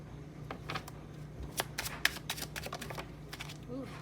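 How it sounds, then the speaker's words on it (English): Tarot cards being shuffled up close, a quick series of crisp riffling and flicking bursts, fairly loud against quiet room tone, without speech. "Ooh, your cards are just flying."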